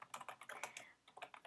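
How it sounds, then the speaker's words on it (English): Rapid keystrokes on a computer keyboard, a quick irregular run of clicky taps with a brief pause, close and quiet, no voices. "You might hear me typing."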